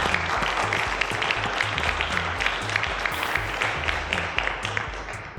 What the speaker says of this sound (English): A round of applause to our contestants.